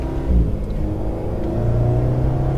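An Alpine sports car on a race track holds a steady, loud engine drone with a low rumble, rising slightly in pitch as it accelerates toward the end, heard close up from inside the car without talk.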